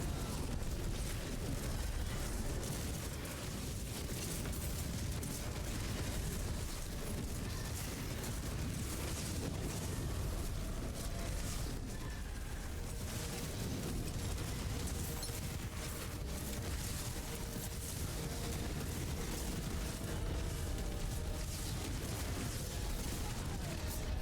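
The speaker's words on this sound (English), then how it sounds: "while we are concealed, we can still cast the corpse explosion" A corpse explosion spell in a video game sets off a dense, continuous barrage of crackling blasts and booming bursts at moderate level, with no talk.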